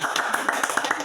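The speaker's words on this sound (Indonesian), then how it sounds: "Kasih tepuk tangan." Brief clapping from a small classroom audience after a group presentation, a short run of moderately loud hand claps at a steady rhythm.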